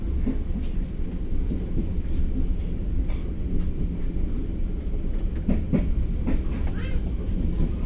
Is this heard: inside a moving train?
yes